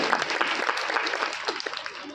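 Applause rises as Sanjay Singh is called up to the stage at a ceremony, a dense, steady wash of clapping that runs the whole moment with a voice talking over it.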